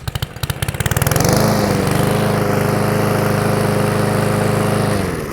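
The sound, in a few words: SENIX 144cc gas lawn mower engine starting and running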